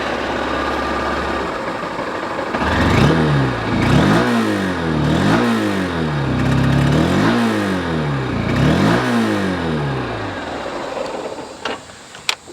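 A Honda SP 160 motorcycle engine fires up, then revs repeatedly in five or six sharp throttle blips that rise and fall back to idle, loud and close with no talk over it.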